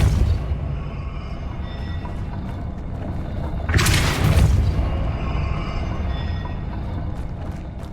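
In the video game Hogwarts Legacy, a Depulso spell goes off as a rushing, booming burst midway through, rising over a constant rumbling game background.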